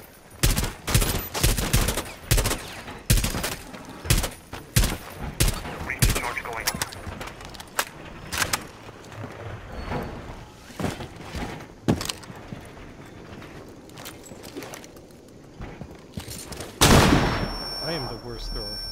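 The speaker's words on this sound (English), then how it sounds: "they're shooting out of this window" Gunfire in Rainbow Six Siege during a house hostage match: many sharp shots in irregular bursts and single cracks, loud and close, with mechanical clatter and voices talking between the shots.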